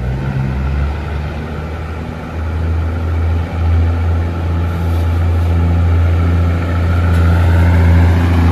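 An old Mercedes truck idles close by with a loud, steady low diesel rumble and a faint high whine above it, throbbing evenly throughout with no talk.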